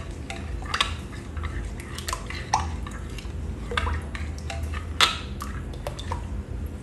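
Shrimp cooking broth splashing into a dish, about half a cup, with close clinks of cutlery and dishes and small liquid drips scattered through a quiet kitchen.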